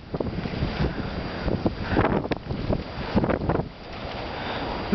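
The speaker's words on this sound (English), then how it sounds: "The wind." Strong blizzard wind batters the microphone in deep snow, a continuous loud rumbling roar with gusting surges and buffeting thumps throughout.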